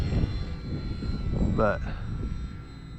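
A Durafly Tundra RC model airplane in red, white and blue flies low and slow in wind, its small motor whining faintly beneath someone speaking, with a brief rising tone partway through.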